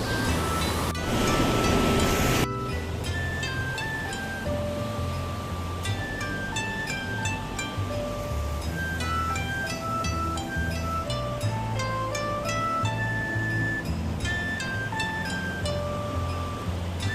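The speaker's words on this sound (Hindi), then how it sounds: "साथ में ये बहता हुआ ऊल नदी का पानी, बहुत ही सुंदर।" The Uhl river rushing through the Barot Valley in Himachal near a dam, a loud, steady broadband roar of flowing water that continues without a break, with birdsong chirping over it.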